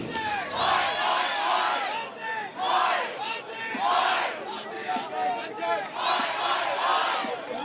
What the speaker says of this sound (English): So the Aussie crowd getting into it here as the sun continues to come out.